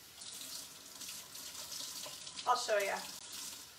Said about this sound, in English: Wash my hands in cold water.